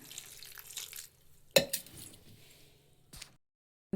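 Water poured into dal in a pressure cooker gives a short splashing pour, followed by sharp metallic clinks and clanks of the cooker and utensils, then near silence.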